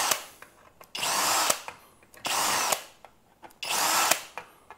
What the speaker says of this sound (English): The 3/16 drill bit, we pretty much got to go through every single hole just to make sure there's no barbs.